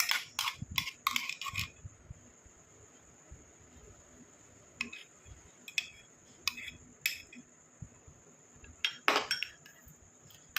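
Homemade raw-mango face cream is moved into another bowl, with sparse, quiet clinks of a utensil against the dish in short bursts over faint insect chirping in the background.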